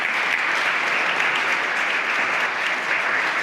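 A seated audience at a book presentation and tribute gives sustained, even applause for a speaker being called forward, a dense continuous clapping with no voices over it.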